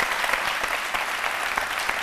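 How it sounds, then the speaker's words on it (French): Studio audience of a French-language television midday show applauding, dense and lively clapping from a crowd, steady and fairly loud throughout. "on vous applaudit très fort ici"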